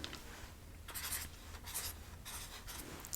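A marker squeaks and scratches across a surface in short, separate strokes with pauses between, close and quiet, with no talking.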